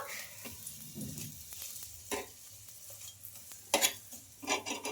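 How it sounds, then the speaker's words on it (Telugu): Rumali roti roasts on an oiled pan with a soft steady sizzle, broken by a few scraping and clinking touches of a utensil against the pan. "ఇంకా ఇక్కడ కూడా ఇంకొక వైపు ఆయిల్ అయితే అంటించుకొని ఇంకా ఇలా బాగా రోటీని కాల్చుకోవాలి"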